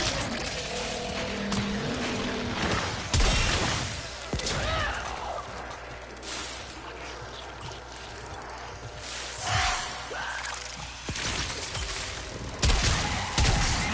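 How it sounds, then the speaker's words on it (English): Automated suppression gunfire in Warframe, cast by the Wisp frame's breach surge ability, comes as dense, chaotic bursts of shots and impacts that swell and fade across a busy game mix. "as long as I've got the energy to cast it, I've got automated suppression fire"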